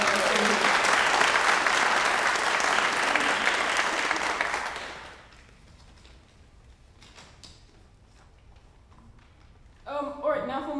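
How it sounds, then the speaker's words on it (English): Audience applause at a college athletics hall of fame ceremony, loud sustained clapping that fades out around the midpoint, leaving a quiet room before a speaker resumes talking at the end. "if you could give them a round of applause"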